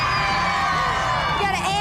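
A studio audience at a 2000 Ripley's Believe It or Not! TV taping cheers and whoops loudly and continuously, with a dense wash of excited voices throughout.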